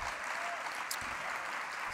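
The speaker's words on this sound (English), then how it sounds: "extra round of applause." Audience applause for the Harlem Samba drummers at a New York borough presentation, a dense, steady wash of clapping that holds evenly from start to end with no break.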